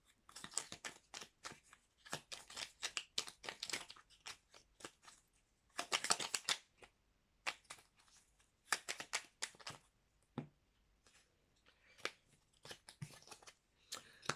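Oracle cards shuffled by hand, with repeated crisp riffling and slapping bursts in an irregular rhythm, close and fairly soft, without talk.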